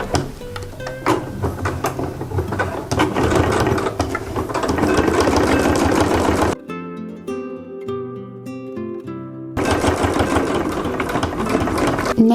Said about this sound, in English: when I'm sewing on vinyl, I do like to make my stitch length a little bit longer